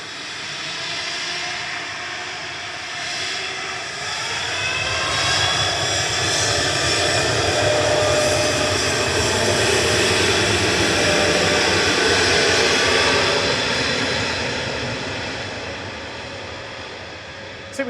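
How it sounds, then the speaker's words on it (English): A Boeing 787-8 Dreamliner departs Manchester Airport for Menorca, its jet engines building to a loud, sustained roar that peaks midway and then slowly fades as the aircraft climbs away. "787-8, Dreamy, heading off for a quick hop down to Menorca, to Mahon, with flight 2608."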